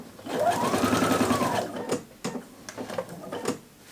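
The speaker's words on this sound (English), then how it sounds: "I'm gonna go ahead and pivot and just sew straight down." A sewing machine stitches a dress seam with a loud, fast whirring run for about a second and a half, then shorter bursts of stitching and light mechanical clicks, close up.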